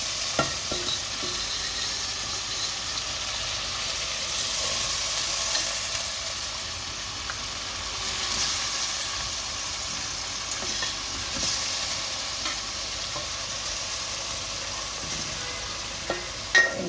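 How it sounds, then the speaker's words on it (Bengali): Tengra fish sautéing in a pan gives off a steady, close sizzling hiss, broken by the occasional scrape and clink of stirring, with no talking. "একটু কষাই নিব মাছটা"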